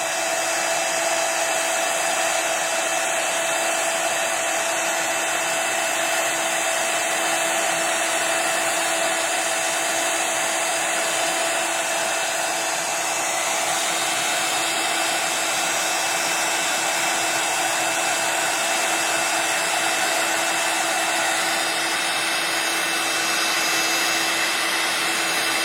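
Embossing heat tool blowing steadily while melting embossing powder for mixed media work, a loud continuous hair-dryer-like whir with a fixed hum that never lets up.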